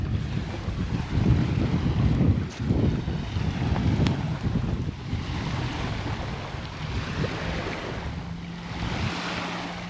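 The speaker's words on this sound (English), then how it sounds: "Super windy." Strong wind roars and buffets the microphone continuously in the Northwoods, a rushing, gusting noise with no voices.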